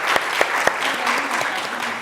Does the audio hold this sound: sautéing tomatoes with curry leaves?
no